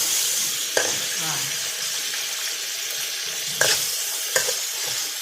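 Pork being stir-fried in a pan with egg added, giving a steady loud sizzle throughout with a few sharp scraping stirs of the spatula, alone without speech.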